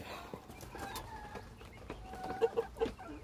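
Several chickens in a breeding pen peck and cluck softly while feeding on Madre de Agua leaves, with a few brief clucks standing out near the end over low farmyard background.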